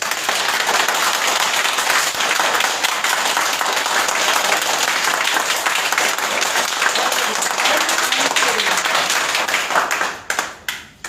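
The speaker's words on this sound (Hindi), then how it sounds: "तो मैंने बताया ताली बजाना है" A crowd at a leaders' meeting claps together on a one-two-three count, a loud, sustained roar of many hands lasting about ten seconds. It ends in a few scattered final claps.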